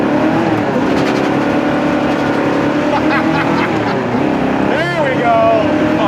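A 1971 Oldsmobile 442 engine drones loud and close while driving and downshifting through the gears, with a voice briefly speaking over it near the end.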